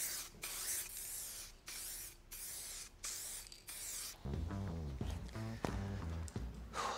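Short bursts of aerosol spray from satin-paint rattle cans hiss on and off about six times. A voice then talks over a fainter spray during the second half.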